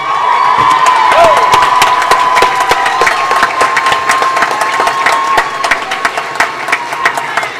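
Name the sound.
crowd applause and cheering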